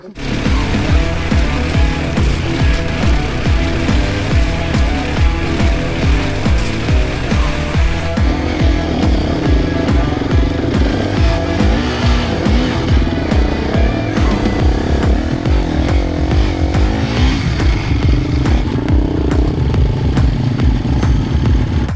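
An enduro motorcycle engine runs steadily off-road, loud and close, with a continuous rhythmic pulsing drone held at constant throttle and slight shifts in pitch throughout, with no talking.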